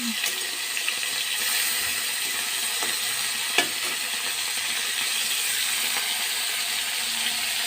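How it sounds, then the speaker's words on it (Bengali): A fish sizzles in a pan of oil, making a loud, dense and continuous hiss with a few faint clicks, close by and with no talking. "তো মাছটা ভাজা হোক"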